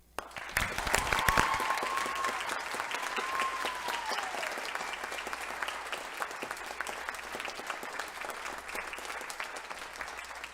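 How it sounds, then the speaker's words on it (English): A theatre audience at a musical showcase gives a sustained round of applause, dense clapping that swells early and then holds steady, fairly distant and diffuse, with a few sharper claps and brief faint whoops. "I would like to give her a personal round of applause"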